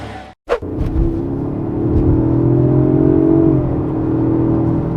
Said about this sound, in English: Exhaust sounds good in dynamic for sure.